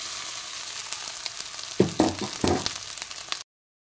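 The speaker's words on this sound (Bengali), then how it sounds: "2 মিনিট ভাজা হয়ে গেছে, এবার আমি দিয়ে দেব ভাত" Cooked rice tipped into a hot pan for Bengali fried rice (bhaat bhaja), giving a few loud bursts of sizzling and frying close by as it hits the oil, then cutting off to silence.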